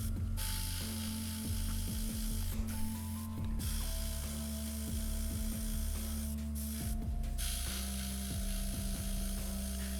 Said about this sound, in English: I'm blowing a lot of air through it right now